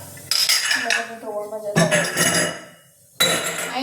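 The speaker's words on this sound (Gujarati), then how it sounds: "આની અંદર ચમચો મૂકી રાખીએ" A metal spoon clinks against a cooking pot in a home kitchen, a few sharp bright knocks separated by brief pauses, with a voice speaking in between.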